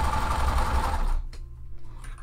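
A sewing machine stitches a puff quilt pillow with a loud close whir that stops after about a second, leaving quieter faint handling noises.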